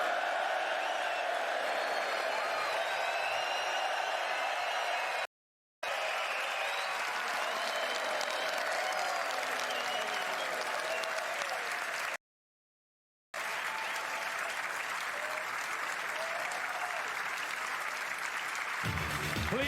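A snooker crowd at the Masters applauding in a steady, dense wash of clapping that carries on for many seconds, broken by two brief silences, with faint cheers mixed in.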